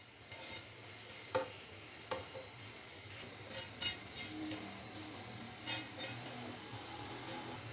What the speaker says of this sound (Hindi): सेवइयां डालने के बाद अच्छे से हम इसको मिक्स करेंगे।